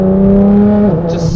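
A loud 2018 Nissan GT-R engine holds a steady high rev toward 7,000 RPM, then its pitch drops briefly as it shifts, close and powerful.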